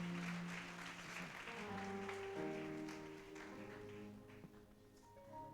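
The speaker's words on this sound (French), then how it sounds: "Acclamez Jésus-Christ. Clap for Jesus Christ." A church congregation claps for Jesus Christ, a steady wash of applause running under sustained musical tones, moderately soft and spread across the room.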